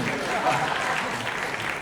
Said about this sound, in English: Clap louder, you all asked us to.